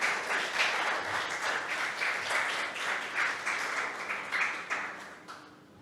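A church congregation claps together in a sustained wave of applause at a service, fairly close and dense, gradually tapering off at the end.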